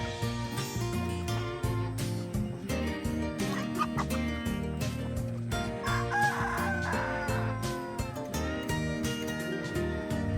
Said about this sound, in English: I gotta feed these birds and make sure they're all good